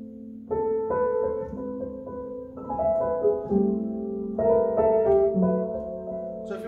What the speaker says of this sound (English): it puts a felt in between the hammers and the strings to give you a quiet sound like this